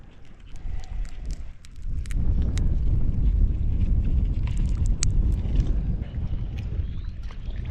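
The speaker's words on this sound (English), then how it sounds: "Wind's cooking." Strong wind buffets the microphone on a fishing boat, a loud, continuous low rumble that surges after the first couple of seconds, with faint clatter and water sounds on board.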